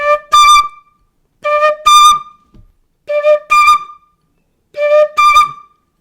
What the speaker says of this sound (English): so you're gonna go from a low D to a higher D